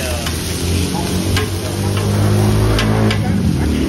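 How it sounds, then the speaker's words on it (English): Mussels frying on a hot griddle for a crispy Thai oyster-style omelet at a Bangkok street food stall, a steady loud sizzle and scraping stir with a low engine rumble of passing traffic beneath. "It looks like a crispy omelet Yes. with fried mussels on it."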